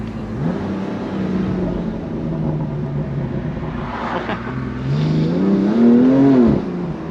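A BMW M2 Competition engine drones and rises in pitch while driving, heard from inside the cabin as a loud steady rumble with revving swells; the exhaust burble itself is not clearly distinct.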